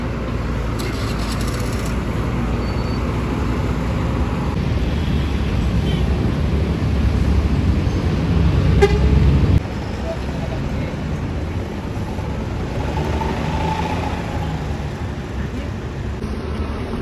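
A Rosalia Indah Hino RK bus pulls out of a bus terminal with a low, rumbling engine drone that swells and then eases off, while someone talks over it throughout.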